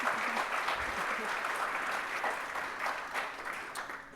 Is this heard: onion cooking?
no